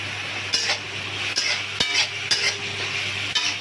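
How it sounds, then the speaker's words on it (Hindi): A spoon stirs grated onion frying in a pan for dal makhani, scraping and clinking against the metal in regular strokes over a steady sizzle, close and clear. "तो प्याज को हमें लाल करना है।"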